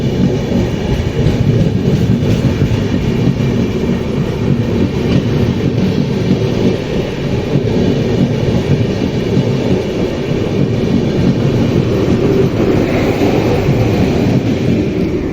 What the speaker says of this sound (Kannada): ಈಗ ಪಾಸ್ ಆಗಿದ್ದ train KSR Bengaluru Panchganga express ನೋಡ್ರಿ.